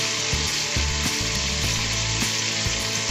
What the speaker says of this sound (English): I'll sear this for about 2 or 3 minutes on each side